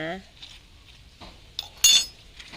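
A spoon clinks against a container while tablespoons of energy drink are added to a garden pest-spray mixture, with a few light taps and one brighter metallic clink near the end, a brief voice at the start.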